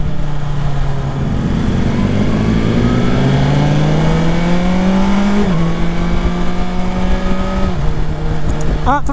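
A 2021 BMW S 1000 XR motorcycle in dynamic mode accelerates on a Southern California test ride, its loud engine note climbing through gear changes with steady wind rush up close.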